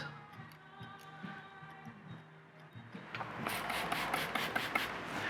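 Scissors cutting hair freehand in a barbershop: quiet, close rubbing and ticking snips, growing into a faster run of crisp, rasping cuts in the second half.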